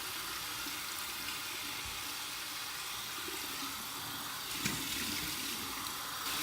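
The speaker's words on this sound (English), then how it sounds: "warm water rinse." Warm water runs steadily from a bathroom tap for a rinse after a shave, a constant hiss of flowing water filling the scene with a few small splashes and no voices.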